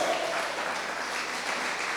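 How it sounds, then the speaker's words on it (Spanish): A church congregation claps together in a brief, even burst of applause that carries through the whole moment without pause. "¿Cuánto le dan un fuerte aplauso al Señor?"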